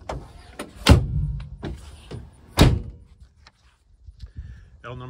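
A double-door side compartment on a 2022 Ford E450 Braun ReMAN ambulance is worked, giving two sharp, close thunks with a latch click and rattle between them, then a quieter tail of small mechanical sounds.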